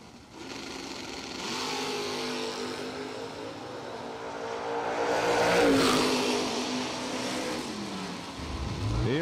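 Drag race cars launch side by side down a Mid-Michigan Motorplex strip, engines roaring loud and continuous, swelling as they accelerate away and then fading.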